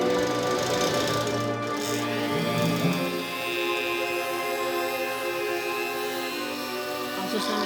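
Dremel rotary tool grinding a small divot into a handmade wand, a steady high whine with a buzzing edge running throughout, close and fairly loud, briefly shifting in pitch as it bites into the material.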